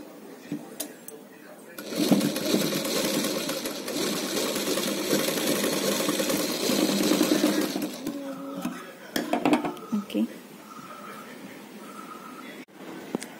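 A sewing machine stitching a folded seam on a child's umbrella frock runs in a steady close burst for about six seconds. Short starts and handling sounds follow, and someone talks before and after.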